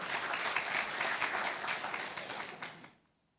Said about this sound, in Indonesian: Anda boleh tepuk tangan untuk kebenaran ini